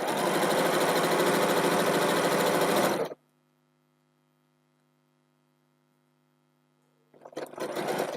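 A sewing machine runs in a steady, loud burst of stitching on quilt strips for about three seconds, stops into near silence with a faint hum, then starts stitching again at the end.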